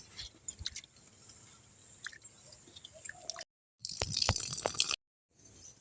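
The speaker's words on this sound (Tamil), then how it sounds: "பருப்பு அலசிக்கலாம்." Lentils (dal) are washed in water in a village kitchen, with close, wet squishing and swishing of grains being rubbed and sloshed, soft gritty rustles, a couple of abrupt silent gaps and a louder splashing burst.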